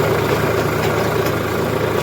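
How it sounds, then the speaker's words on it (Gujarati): A tractor engine idles on a farm, a steady low rumbling drone that stays close and even, with no voices over it. "જો આપણું ટ્રેક્ટર સામું તમને દેખાતું હોય છે"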